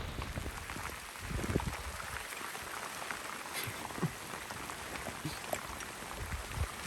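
Steady rain falling during a duck hunt, a dense continuous patter with scattered louder drops close by, fairly soft overall and with no one talking.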